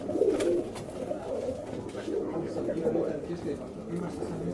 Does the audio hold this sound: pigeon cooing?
yes